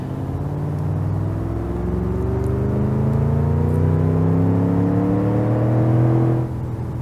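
A truck engine in the BeamNG Drive driving game revs steadily upward for about six seconds, its droning pitch climbing, then drops off abruptly near the end.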